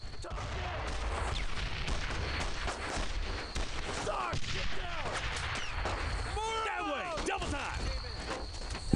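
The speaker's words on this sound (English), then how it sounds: "Okay, so you guys are gonna provide suppressing fire?" Suppressing gunfire rattles through a World War II shooter battle in Brothers in Arms: Road to Hill 30, with dense overlapping rifle and machine-gun bursts at mid distance, steady throughout, while voices shout in the background.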